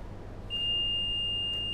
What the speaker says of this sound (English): If the toy contains any metal, such as a needle, then the machine will sound beep,